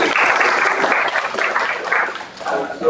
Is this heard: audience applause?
yes